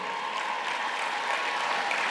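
Graduation ceremony audience at Green Pond High School cheering and applauding for parents and well-wishers, a steady, dense wash of clapping and crowd noise throughout with no break.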